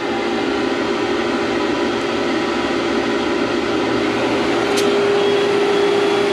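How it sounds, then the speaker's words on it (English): A pet grooming force dryer blows steadily, a loud constant whooshing roar with a faint whine, close and unbroken throughout. "This is my new force dryer."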